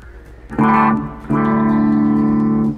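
Clean tone from a fixed-up, set-up Chinese-made Fender Squier Stratocaster electric guitar: a short strummed chord rings briefly, then a second chord sustains steadily for over a second before fading, played alone with no talking.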